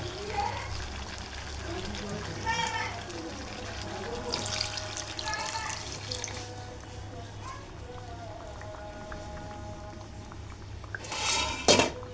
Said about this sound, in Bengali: আমি এখন চিকেনটা যাতে আরও ভালোভাবে সিদ্ধ হয় তার জন্য দুধ অ্যাড করে দিব